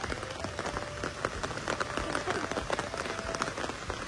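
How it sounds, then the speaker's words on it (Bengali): Heavy rain falls in a steady, dense hiss and patter on surfaces, continuous and fairly close throughout. "বৃষ্টি, এত বৃষ্টি যে বৃষ্টির জন্য লেট হয়ে গেছে।"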